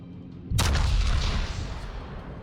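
The battleship Lion's guns firing in a naval video game: a single heavy boom hits after a quiet moment, then a long rumbling roar slowly fades.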